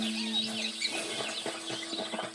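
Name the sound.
ambient animal sounds in a video game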